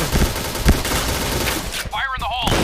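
Rapid gunfire from the PointBlank online shooter game, dense and loud throughout, with a short dip in the shooting near the end and faint voices mixed in.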